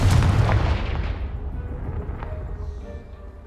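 A Confringo spell in Hogwarts Legacy blasts a pile of debris with a loud, close boom that rolls off into a long fading rumble and scattered settling rubble.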